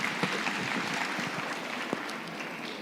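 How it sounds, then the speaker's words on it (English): Applause spreads through a conference hall audience, a fairly quiet wash of scattered hand claps with a few sharper individual claps standing out. "So give him a double round of applause."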